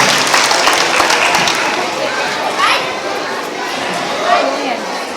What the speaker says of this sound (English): Big round of applause for our kindergarten PBIS award winners.